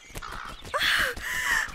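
A crow gives two loud, harsh caws close by, each drawn out and raspy, with a few faint ticking sounds before them.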